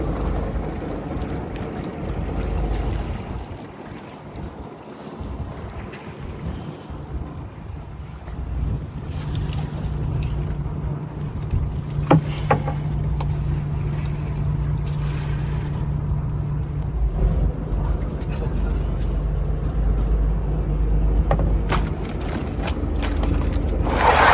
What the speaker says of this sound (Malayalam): ഇപ്പോഴും നമ്മുടെ ബോട്ടിൻ്റെ എൻജിൻ ഓഫ് ചെയ്തിട്ടില്ല